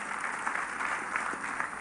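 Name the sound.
applause for two honourable guests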